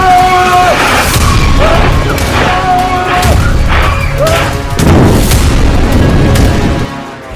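Explosions in Beirut, Lebanon, captured in news footage: heavy repeated booms and crashing blasts roll through the whole stretch, loud and dense, with a faint voice partly underneath.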